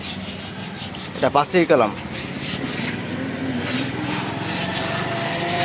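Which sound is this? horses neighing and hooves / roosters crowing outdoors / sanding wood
sanding wood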